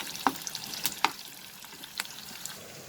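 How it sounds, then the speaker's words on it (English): Green chillies and soybean sautéing in a pan over high flame, a soft steady sizzle with a few sharp clicks of stirring, quiet and close. "And now I will saute this for a minute"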